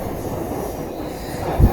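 An MRTS suburban train runs along the tracks toward Velachery, a steady low rumble of rolling wheels with a brief louder thump near the end, heard alone with no talk.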